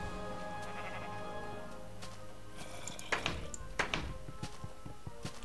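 A sheep in Minecraft bleats a few times on a mountainside, mixed with soft thunks and taps, over a low steady game background.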